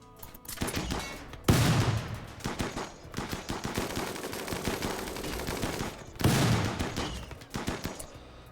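Rapid bursts of gunfire crackle in a RimWorld battle, dense overlapping shots with two heavier volleys standing out, fairly quiet overall and without speech.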